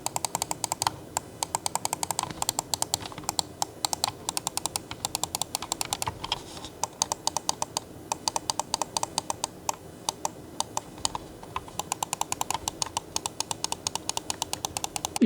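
Side buttons of an ATK X1 Pro gaming mouse clicked in fast, spammed bursts: crisp, light, close-up clicks in quick runs with short gaps between them.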